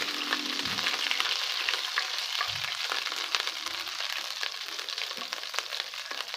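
Oil sizzles steadily in a pan while the base for Pakistani bhindi payaz, an okra and onion dish, fries for a minute, a dense continuous hiss with small crackles and no talking.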